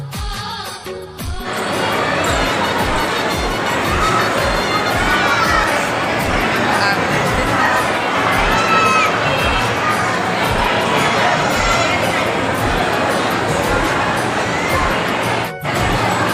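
A dense crowd at the Maa Mavli Mata temple in Singarpur fills the air with a steady, loud wash of overlapping voices and bustle, with people talking nearby.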